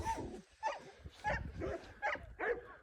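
Livestock guardian dogs bark at feeding time on a rescue farm, a run of about six short, rough barks and yips spaced unevenly, moderately close with some excited whimpering between them.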